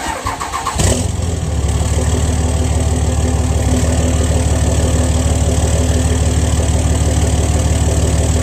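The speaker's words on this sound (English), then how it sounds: "The truck does have a 4-inch straight pipe turbo back." A third-generation Dodge Cummins diesel pickup with a 4-inch straight-pipe turbo-back exhaust cranks briefly, fires up and settles into a loud, rattly, rhythmic idle, close to the exhaust.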